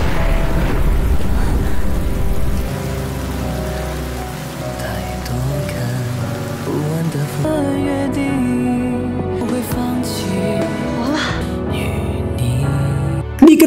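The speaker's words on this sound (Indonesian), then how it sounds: "Shao-Chang yang mendengar hati Nanyan sedang bersedih pastinya segera bergegas menurunkan hujan." Rain falling in a film scene, a dense hiss of drops layered under swelling music, loud and continuous throughout, with sharper splashy accents toward the end.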